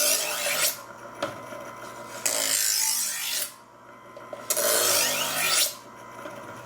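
Kitchen knife drawn across the finer side of a sharpening stone, close and loud, in repeated long rasping strokes roughly a second apart, separated by brief pauses.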